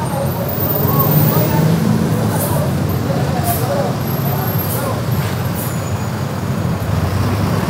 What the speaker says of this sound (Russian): Вот безумные автобусы.